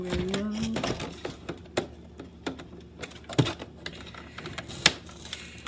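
A knife scrapes and clicks against plastic toy packaging for a Buzz Bee Adventure Force Arsenal pack, irregular sharp ticks and rasps close by with some louder snaps.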